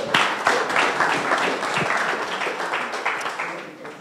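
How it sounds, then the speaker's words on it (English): Conference audience at a security talk gives a round of applause, a steady close patter of clapping with some voices mixed in, easing off slightly toward the end. "give them a round of applause"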